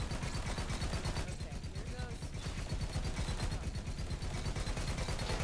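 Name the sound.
gun firing in Borderlands 3 video game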